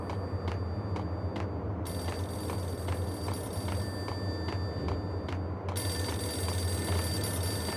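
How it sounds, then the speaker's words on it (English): A payphone in the PS2 game Max Payne rings repeatedly in steady electronic trills against a low background hum, with no talking over it. "The payphone started to ring."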